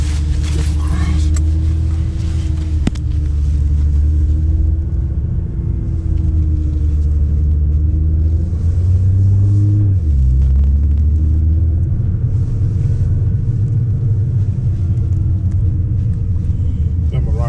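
A 2010 Nissan GT-R idling while warming up, a loud deep steady rumble from inside the car with a brief dip and swell midway, a voice talking over it.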